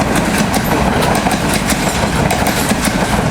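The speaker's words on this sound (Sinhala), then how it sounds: "දැන් කෝච්චි කීපයක් එහාට මෙහාට ගියා. ඒවා ඉතා වේගෙන් යනවා." A train passes close by at high speed with a loud, continuous rumble overlaid by rapid rhythmic clickety-clack from the wheels on the rails, with no talking.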